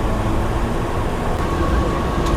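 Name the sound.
local train running from Khopoli to Kalyan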